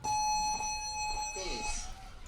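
An electronic end-of-match buzzer sounds at a pro paintball tournament game, a steady tonal drone under an excited commentator speaking over it.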